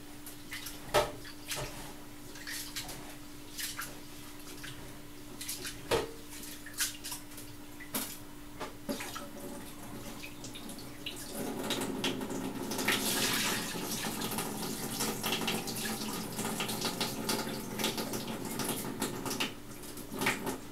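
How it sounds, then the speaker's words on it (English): Rice washed under a running tap for a Jamaican rice and peas Sunday dinner, quiet kitchen clatter and drips at first, then a steady hiss of flowing water swishing through the grains for the last half. "You just have to wash the rice good"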